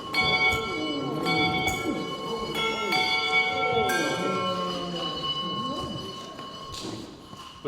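Several bells chime in overlapping, ringing tones with sustained harmonic decay, struck repeatedly in an irregular pattern, while a voice speaks alongside them.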